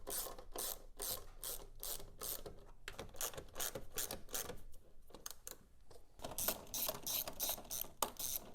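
A hand ratchet clicks rapidly and loudly while loosening the 8mm airbox lid bolts on a 2013-16 Dodge Dart, in repeated bursts of sharp pawl ticks separated by brief pauses, close up and without talk.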